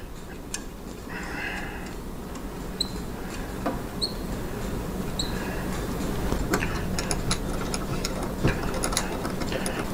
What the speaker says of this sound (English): We're going to take our Allen wrench and a wrench.